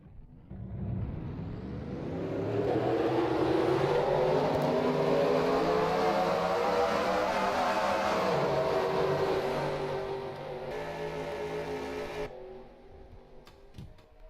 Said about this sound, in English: now let's get the cars rolling off.